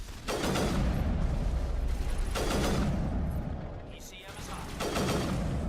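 Sniper rifle shots in Mass Effect 1, three heavy cracks spaced a couple of seconds apart, each with a long rumbling tail, fairly loud against a noisy background.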